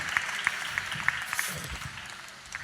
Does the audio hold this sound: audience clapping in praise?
yes